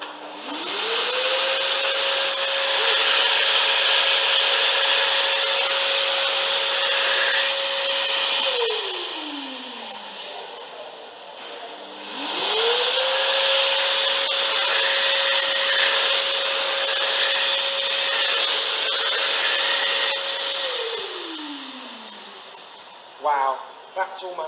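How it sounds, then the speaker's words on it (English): A Jet Dryer Executive hand dryer blows twice, each run a loud steady whoosh with a rising start and falling wind-down, separated by a brief pause. "We've got a jet dryer executive."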